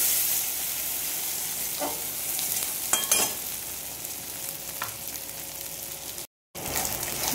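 Chilli and cumin powder fry in a pan with a constant soft hiss, with a few faint clinks and scrapes of stirring and a short silent gap near the end.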